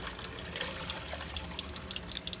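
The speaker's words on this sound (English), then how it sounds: "What I like to go ahead and do is add the water until we're just about over the plates." Water poured into a Pentair iChlor salt cell during cleaning, filling it until the plates are just covered: a steady, close, low-level trickling splash with no talk over it.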